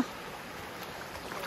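A small hill stream flowing down toward Toiduchhara waterfall makes a soft, steady rush of water, faint and continuous with no voices.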